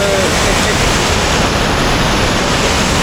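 Loud, continuous roar of rushing floodwater after a week of rain near Mangaon, Raigad, filling the whole scene, a dense broadband torrent with no letup and no voices.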